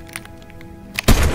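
A single loud, close sniper rifle shot in a video game, a sudden heavy crack with a booming tail after quieter faint clicks and tones.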